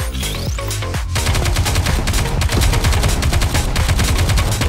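Dense, continuous gunfire from the anime-style shooter Goddess of Victory: NIKKE as enemy aircraft are shot down, loud rapid shots layered over booming game music and explosions throughout.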